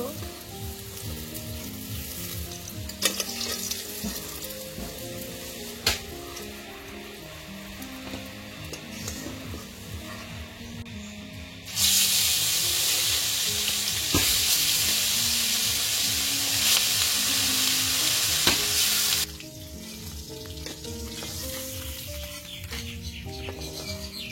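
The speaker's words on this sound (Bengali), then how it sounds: "কত সুন্দর করে মাছগুলা ভেজে নিলাম।" River fish frying in hot oil, a steady loud sizzle that swells sharply midway as the pan crackles intensely, then settles back to a lighter bubbling.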